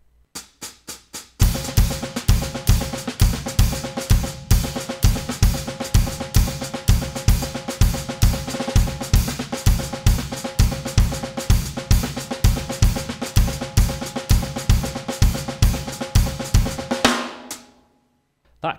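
Drum kit plays an odd-time groove in a lesson, hi-hat pedal chicks landing on the eighth notes under dense, rapid kick and snare hits, loud and close for about sixteen seconds before stopping abruptly.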